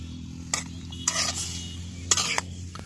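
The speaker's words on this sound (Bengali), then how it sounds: "আমরা আলুটা দিয়ে নিয়ে নাড়াচাড়া করছি।" Potato pieces are stirred through a simmering spiced curry gravy for a village-style hilsa and potato bhuna, with a few scraping, sloshing stir strokes over a steady low hum.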